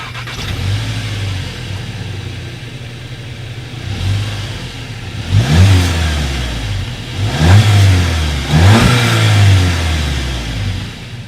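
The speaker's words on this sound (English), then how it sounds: "here is that exhaust clip" A 2019 Volkswagen Jetta GLI with dual exhaust outlets idles with a low rumble, then is revved three times, each blip rising sharply and settling back, loud and close with no talk.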